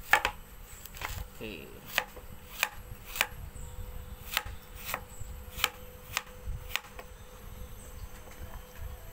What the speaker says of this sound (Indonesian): Serai kita hiris halus.